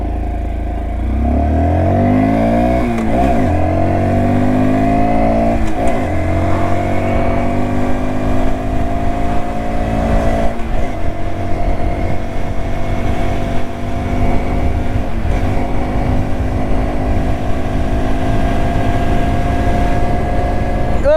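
A 2024 Honda Dax 125 motorcycle accelerates through its gears, the single-cylinder engine rising in pitch with each run and dropping at shifts. The engine stays loud and close throughout, with no talk.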